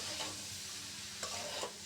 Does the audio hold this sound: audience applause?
no